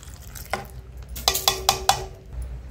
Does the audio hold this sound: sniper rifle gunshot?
no